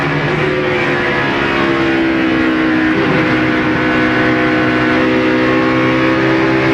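Race cars at the 2002 Pennsylvania 500 circle the track into turn 3 with a continuous, loud, layered engine drone whose pitches shift slightly as the cars work through their gears.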